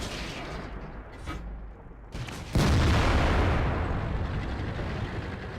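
A tank cannon shot in World of Tanks booms loudly partway through, a heavy blast that rises sharply and then rumbles on amid continuous battle noise.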